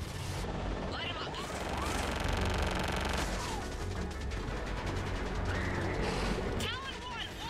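Attacking gunships in Mass Effect 3 fire sustained bursts of loud automatic fire mixed with explosive impacts and whooshing passes. Radio chatter from voices runs underneath the dense, continuous barrage.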